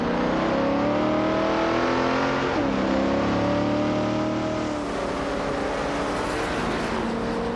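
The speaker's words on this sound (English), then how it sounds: "Maya is driving a 1965 Pontiac GTO" A 1965 Pontiac GTO engine in a racing video game drones loudly and steadily, its harmonic whine bending through gear shifts and pitch swoops as the car holds pace among rival racers.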